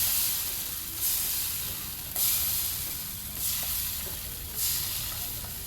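Shitrooti pitha frying in oil in a pan, a steady close sizzle and hiss that swells slightly about once a second, with no voices.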